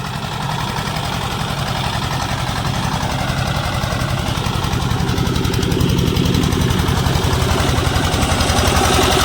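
Close and loud, a Peter engine fitted on a crop sprayer tank chugs at a steady idle, its rapid, regular knocking pulse unbroken and alone for the whole stretch.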